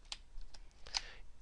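Typing on a computer keyboard while entering a date formula in Excel, a few soft, separated keystroke clicks spread over about a second and a half, quiet and close, with no voice.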